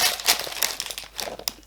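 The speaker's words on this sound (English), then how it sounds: "And then I'm going to tear this open" Packaging of a Glossybox beauty box being torn open by hand, a short burst of close crinkling and ripping with no voices.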